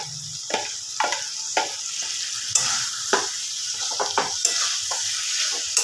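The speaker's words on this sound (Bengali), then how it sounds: "এর মধ্যে আলুগুলো দিয়ে দেবো।" Potatoes sizzling in a frying mutton keema curry, a constant loud hiss broken by regular scraping stirs of the spoon against the pan, about one stir every half second, with no voices.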